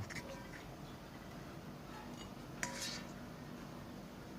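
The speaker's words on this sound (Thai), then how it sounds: "หลังจากนั้นเราก็มาตักใส่จานเลยครับผม" Pork fried rice is scooped from a pan onto a plate: faint scraping over a steady hiss, with a couple of brief metallic clinks near the middle.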